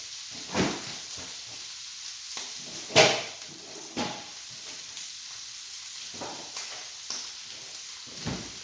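Shrimp sizzling in a pan for a from-scratch Alfredo, a steady frying hiss broken by scraping stirs at irregular intervals, one louder clatter near the middle; close and alone, with no talking.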